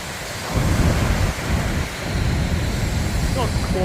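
Ocean waves wash onto a beach on a gloomy, wet day, a loud broadband roar that surges and falls with wind noise, and someone talks over it.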